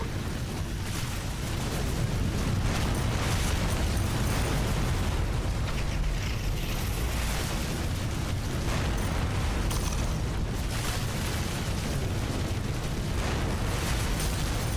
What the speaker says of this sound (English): A building has been destroyed.